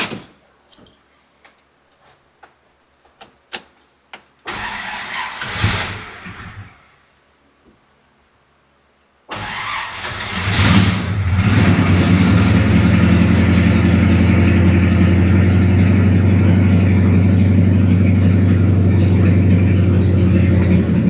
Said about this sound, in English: It's gonna sit here and idle. It ain't been cranked in a month.